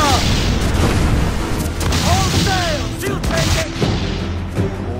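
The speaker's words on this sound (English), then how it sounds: "Fire all guns!" The Jackdaw's cannons fire a broadside during sea combat in Assassin's Creed Black Flag: a rapid string of deep booms punches through a loud, continuous battle din, with a voice shouting over it.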